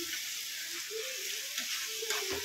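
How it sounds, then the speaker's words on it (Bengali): Butter prawns sizzling and being stirred in spice masala in a pan, a continuous close frying hiss with occasional scraping of the spoon. "চিংড়ি মাছটা আরেকটুখানি ভালো করে সাঁতলে নেবে।"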